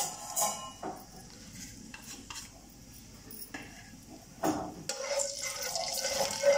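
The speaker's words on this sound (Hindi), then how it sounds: "गरम मसाले को यहाँ पे अच्छे तरीके से भून लेंगे।" Spices sizzling in hot oil, a steady close crackle with occasional metal clinks of stirring and scraping, growing louder toward the end; no voices.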